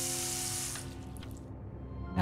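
Water runs steadily from a tap into a trash can inside a puzzle video game, a smooth continuous rush that thins out and fades near the end.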